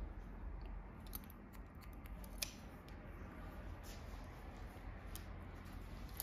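Scissors point-cut hair for a short spiky women's hairstyle, a series of faint, close, quick snips scattered over quiet room tone.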